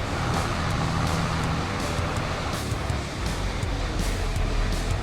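A small car driven in the Farming Simulator video game, a loud continuous engine and road roar with a few short bursts of noise and no speech.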